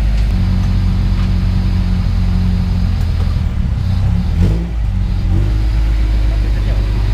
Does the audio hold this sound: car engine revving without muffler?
yes